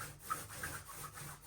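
Hand sanding of wood during a small-room renovation, a steady rhythmic rubbing scrape repeating in strokes roughly every few tenths of a second, close and moderately quiet with no talk.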